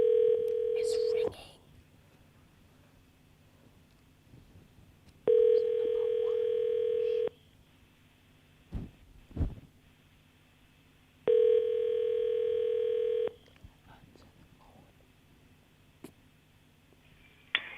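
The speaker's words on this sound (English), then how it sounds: "It's ringing." A telephone ringback tone pulses three times in long, steady bursts with quiet gaps between, heard over the line during a radio call-in show.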